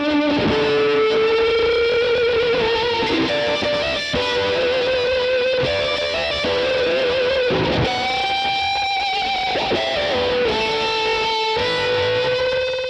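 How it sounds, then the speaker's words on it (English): Heavily distorted electric guitar through a fuzz pedal and a very long Space Echo delay plays sustained, gliding fuzz notes that smear into long echoing repeats, thick and loud throughout with no talking. "Now let me turn on my fuzz."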